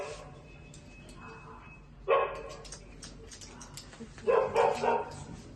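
Dogs bark in two short bursts, one near the middle and a louder cluster toward the end, over quiet background murmur.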